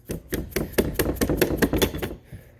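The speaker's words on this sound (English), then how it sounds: "Take your rubber mallet again and give it some coaxing on either side of the locking lug here" A rubber mallet taps on the locking lug of a radikal MKX-3 rifle, about a dozen quick, dull knocks in an even rhythm, close and clear with no talking.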